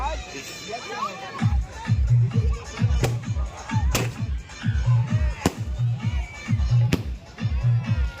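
Fireworks are set off at a crowded outdoor show, with rapid repeated booming thumps in a steady rhythm and sharp cracks, under loud crowd noise, shouting children and some talk.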